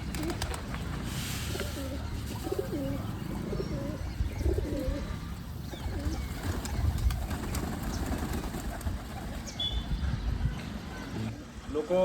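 Domestic pigeons kept at a village home coo repeatedly in soft, close, overlapping calls, with steady outdoor ambience and faint background voices and a distant engine underneath.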